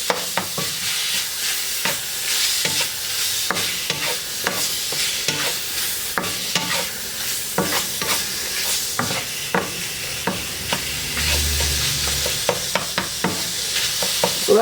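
Stir-frying with Sichuan pepper: a loud, steady sizzle in a hot pan, broken by frequent sharp scrapes and knocks of a utensil breaking up clumps, with no voices.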